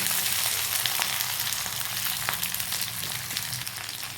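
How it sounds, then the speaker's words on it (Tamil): Dried shallots sautéing with garlic in a pan for a ridge gourd chutney give a steady, dense sizzle and crackle, close and fairly loud, continuing evenly throughout without speech. "காஞ்ச சின்ன வெங்காயம் சேர்த்து வதக்கிட்டேன்."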